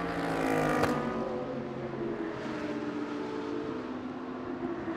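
Audi GT race cars at a corner of Sepang circuit roar past, a loud engine wail with a sharp burst early on, then fading into a sustained distant engine drone.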